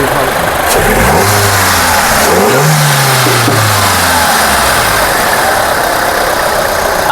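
A 2014 Hyundai Xcent running on CNG after a sequential gas kit installation revs loudly and up close, its engine rising in pitch to a peak and then falling back, with a steady mechanical roar throughout and no talk over it.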